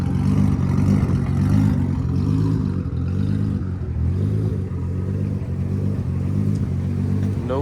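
A tuned 1000whp Nissan 370z engine idles roughly at close range, a loud, steady, throbbing low rumble with uneven pulsing and no talk over it.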